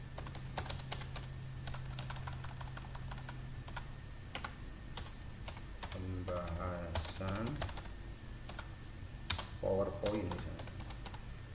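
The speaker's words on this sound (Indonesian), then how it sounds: "misalnya ini saya ketik di sini pembahasan" Rapid keystrokes on a computer keyboard while entering text into a PowerPoint slide, a steady run of close clicks with someone speaking over the latter part.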